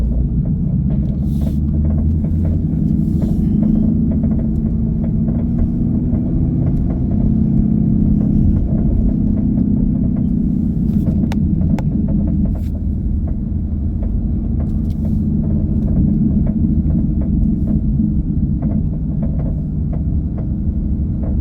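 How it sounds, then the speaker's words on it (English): Continuous low rumble of road traffic, vehicles droning steadily and loudly throughout with no pauses and no voices. "So much traffic."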